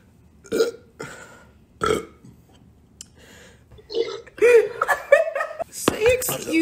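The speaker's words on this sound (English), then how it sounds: "Drink it all and just burp right after." Loud burps from a person after gulping down a drink, several belches in a row among snickers and laughter, with voices talking close by.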